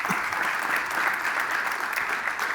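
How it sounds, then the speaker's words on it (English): Audience applause for the experts at the close of an evening stage session on 5G, a steady dense clapping wash held at full strength from start to finish, with no talk over it. "Another round of applause to the experts."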